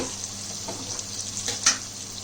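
Lentils frying in hot oil for khichuri give a steady close sizzle with a few soft stirring scrapes and one sharper clink, no voices over it.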